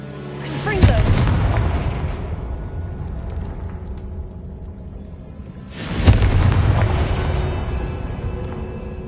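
Confringo spell explosions in Hogwarts Legacy, with two loud booming blasts several seconds apart, each followed by a long rumbling decay.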